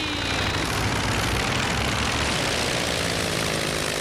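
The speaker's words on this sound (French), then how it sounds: "Vous êtes prêts pour le décollage?" A propeller aircraft takes off in a children's cartoon, its engine roaring as a dense, continuous, loud drone that holds steady throughout without talking.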